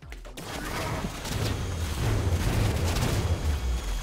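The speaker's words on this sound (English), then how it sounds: "Listen to that cannon you got." Heavy cannon fire in the modded Rounds video game, a dense continuous roar of rumbling booms and blasts that holds loud and steady for several seconds without clear gaps.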